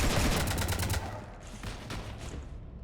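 Rapid bursts of gunfire in Mass Effect 3, a dense volley of shots in the first second that thins into scattered, fainter cracks over a low hum.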